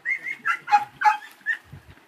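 A hunting dog tracking a scent along a stream bank gives a quick run of five or six short, high yelping barks at a moderate distance, with brief pauses between them and no talk.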